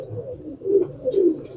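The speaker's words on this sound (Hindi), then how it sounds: "ये कैसा खूबसूरत कबूतर है, कैसा लाजवाब कबूतर है" A fancy pigeon coos close by in a low, throaty voice, two swelling coos rising out of a soft steady murmur, with no talk over it.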